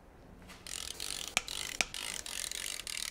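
A ratchet loosens the main bearing bolts on a supercharged BMW V8 engine from an Alpina B7, clicking in rapid, repeated bursts up close, with two sharp metallic snaps as bolts break free.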